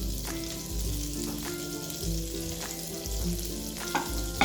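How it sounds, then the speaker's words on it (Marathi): Butter and a spoonful or two of oil heating in a pan for chicken malai tikka, a loud, steady close sizzle and crackle with a low rumble underneath. "पॅन मध्ये आपण थोडंसं बटर टाकू।"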